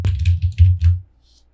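A computer keyboard is typed on in a short burst of a few soft, close keystrokes with a low thumping tone beneath, ending after about a second in near silence.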